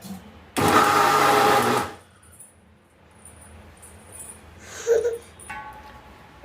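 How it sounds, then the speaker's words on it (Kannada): A kitchen mixer grinder grinds rice batter with a little water in one loud, steady whirring burst of about a second and a half, followed by quiet room sounds and faint clatter. "ಇದಕ್ಕೆ ಇವಾಗ ಸ್ವಲ್ಪ ನೀರು ಮಿಕ್ಸ್ ಮಾಡಿಕೊಂಡು ಮಿಕ್ಸಿ ಮಾಡ್ಕೊಳ್ಳೋಣ."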